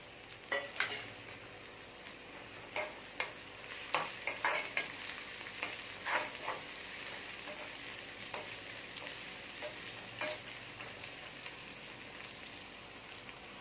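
Curry leaves sautéing in a pan for a Tamil drumstick kootu, with a steady soft sizzle broken by frequent sharp scraping strokes of a spoon stirring at an uneven rhythm, close and moderately loud, no talking.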